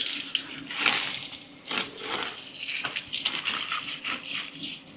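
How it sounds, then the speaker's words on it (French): Water hose spraying and rinsing a jet ski hull and trailer, a continuous hissing splash with fluctuating bursts as the stream moves, close and moderately loud, no talk. "N'hésitez pas à monter et descendre pour vraiment que vous puissiez rincer vraiment de partout."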